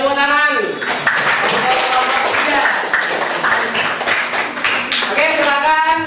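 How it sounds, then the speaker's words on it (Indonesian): A classroom group claps hands together in a steady burst of applause, with voices and chatter mixed in throughout. "Oke, tepuk tangan."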